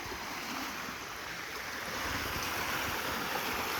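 A flooded, muddy river swollen after rain rushes past a cabin property in a steady, broad roar of flowing water that swells slightly louder partway through, with no talking.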